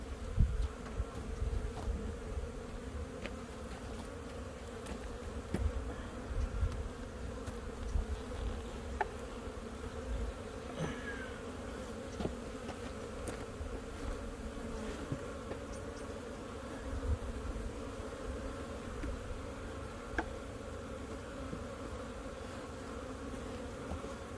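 Honeybees hum during a beehive inspection, a dense, continuous drone of many insects at moderate distance with individual bees passing close now and then, steady and fairly quiet throughout.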